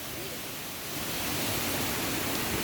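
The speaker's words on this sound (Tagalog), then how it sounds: "And the falls. You can hear the water." Rushing water from falls in a hilltop garden in Tai Po, a broad, steady wash of noise that swells slightly louder after the first second and holds constant, with no talk.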